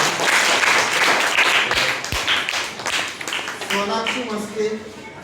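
A classroom of children applauds, a broad wash of clapping that fades as a voice starts speaking over it.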